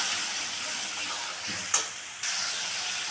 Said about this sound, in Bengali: দিয়ে আমি মশলাটাকে একটু ভেজে নেব